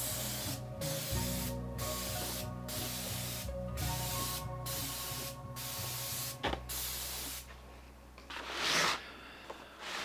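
Aerosol paint sprayed from a spray can during interior repairs on a Porsche 928: repeated loud hissing bursts in a steady rhythm, followed by a longer continuous spray with rattling and handling noises.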